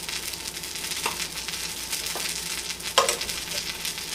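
Butter melts and sizzles in a pan for stuffed French toast, with a steady, hissing fry throughout, a few soft pops and a louder scrape of a utensil near the end.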